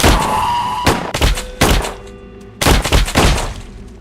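Four heavy gunshots boom in the video game Shift at Midnight, each a loud sharp blast with a ringing decay, spaced about a second apart with no talking between them.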